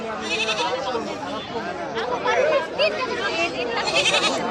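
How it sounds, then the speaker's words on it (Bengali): Goats bleat repeatedly at a busy Saturday livestock market, several wavering calls overlapping close by amid a murmur of crowd chatter. "মোটামুটি অনেকগুলো ছাগলই উঠছে।"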